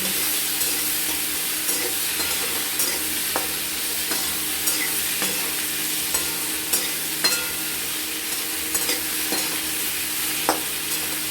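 Curry being stirred and fried in a pan for a Bengali hilsa fish and ash gourd dish, a steady sizzle with repeated scraping clicks of the spoon against the pan, close and continuous with no talk.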